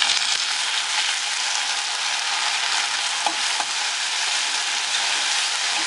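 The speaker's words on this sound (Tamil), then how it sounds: "இதில் தக்காளி போடணும்" Tomatoes go into onions already frying translucent in a pan for a cabbage and peas poriyal, making a loud, continuous close sizzle with faint stirring scrapes throughout.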